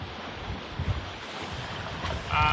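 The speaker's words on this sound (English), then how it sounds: "I get a bit gusty going through the gap there as the wind comes over the island" Gusty wind rushes steadily over a sailing boat among Greek islands near Hydra and Poros, buffeting the microphone with rough low rumbles and brief stronger gusts, with water noise underneath and no voices.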